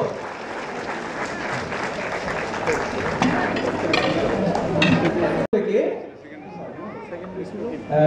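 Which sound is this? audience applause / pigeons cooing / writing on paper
audience applause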